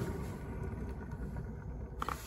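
The removed reduction gear of a Renault Zoe ZE40 electric motor being spun by hand: a faint, rough, grinding rumble from worn gearing, steady with small irregular knocks.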